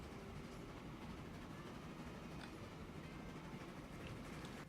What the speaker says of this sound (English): we have 1 steel train coming in